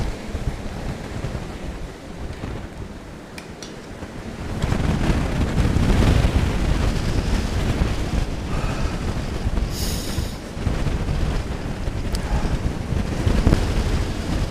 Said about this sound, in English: It's very windy in Reykjavik actually, like it's 10 meters per second